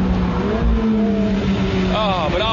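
A Ferrari F430 roadster's engine revs hard under throttle, a loud, rising roar close up with a voice speaking over it.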